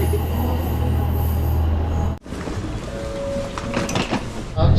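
A train rumbles steadily through a station, then cuts to a quieter rolling hum with faint squeals and clicks of wheels on rails.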